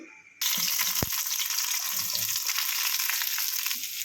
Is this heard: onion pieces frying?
yes